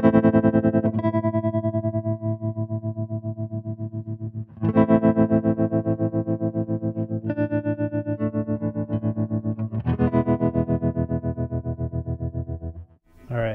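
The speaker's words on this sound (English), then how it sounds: "Using the Strymon Flint up here for reverb and tremolo." Electric guitar played through a Strymon Flint reverb and tremolo pedal, sustained chords pulsing in fast regular tremolo throbs with a reverb tail, several strummed chords in sequence, no talking.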